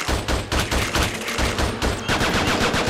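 Rapid-shot gunfire in the Xbox 360 shooting game Attack of the Movies 3D: dense, loud bursts of repeated shots in a fast steady rhythm, with a brief lull in the middle before the volley resumes.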